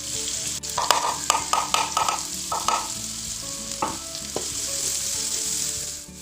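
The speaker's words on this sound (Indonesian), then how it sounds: "Ini ditumis sampai bumbu harum." Sliced shallots and ground yellow spice paste sauté in a hot pan, a steady bright sizzle with repeated scraping stir strokes early on, close up and with no voices.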